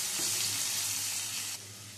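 Onions sizzle steadily in a pan with a pinch of salt while being fried toward crisp golden brown for a black egg bhuna, a continuous broadband hiss that drops slightly in level near the end.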